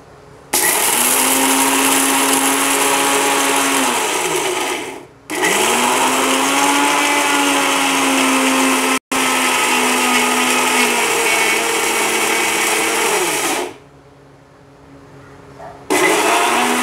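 A mixer grinder grinds garlic, rock salt and spices for idli podi, its motor whining loudly in three long runs with short stops between, then falling quiet before starting up again.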